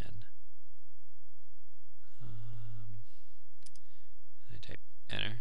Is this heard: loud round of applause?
no